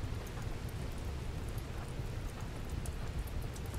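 Steady rain falls in Rimworld as a dense, even hiss that stays constant and fairly loud throughout, with no talking.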